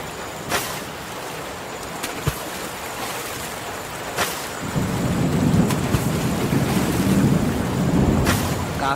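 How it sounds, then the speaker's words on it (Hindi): Heavy rain pours steadily during a thunderstorm, with sharp cracks of nearby thunder and a deeper, rumbling roar of downpour building in the second half. "बहुत तेज बारिश हो रही है।"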